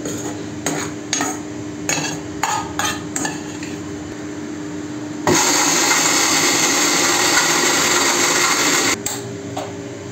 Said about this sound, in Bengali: এবার এটা মিক্সিতে পেস্ট করে নেবে।